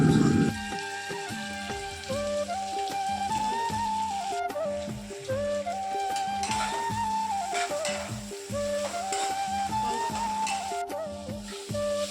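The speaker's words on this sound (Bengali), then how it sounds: "ভালো করে মশলাটা কষিয়ে নেবো" Steady frying sizzle of spice paste in a pan for khichuri, with light stirring scrapes, accompanied by a melodic tune playing throughout.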